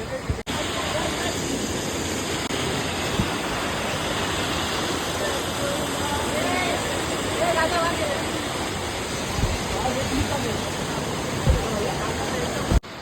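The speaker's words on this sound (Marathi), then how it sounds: "हा इथून आलेला धबधबा आहे" A waterfall pouring down on a forest trek trail, a steady broadband rushing hiss that continues without a break for the whole stretch, with a few faint voices and bumps from the crowd nearby.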